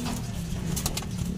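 Racing pigeons coo softly and steadily in a loft, a low throaty murmur running throughout with brief fluttering rustles mixed in.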